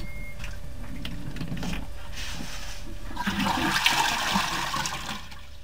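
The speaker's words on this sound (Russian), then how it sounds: "Так вы слили воду, просто так." A household toilet flushes in an apartment, the rush of draining water swelling and gurgling before tapering off, fairly close and clear with no talking.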